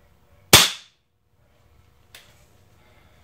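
An air rifle fires one sharp, loud crack into half-inch wood, followed about a second and a half later by a quieter knock and then a faint tap.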